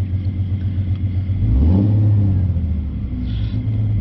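A V6 Mustang fitted with an idle chop mod switch idles with a low, steady rumble up close, swelling slightly partway through before settling back.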